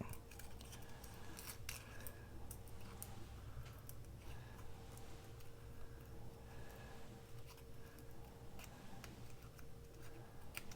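Small, very sharp scissors fussy-cut paper in quick, light, irregular clicks, close and quiet, with a steady low hum in the background and no talking.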